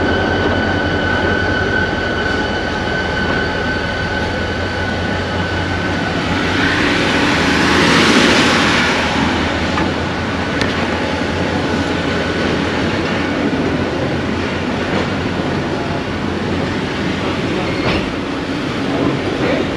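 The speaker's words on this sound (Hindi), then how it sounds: "गेट बंद हो गया और ट्रेन भी रवाना होने लगी है।" A local train on the KCR line rolls along with a steady, loud rumble of wheels and carriages, a brief swell of brighter rail noise rising midway before settling back into continuous running.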